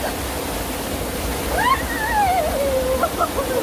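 Steady broadband rush of the waterfall at Maday Falls, Tai Shui Hang, Hong Kong, close and constant, with faint voices rising over the water partway through.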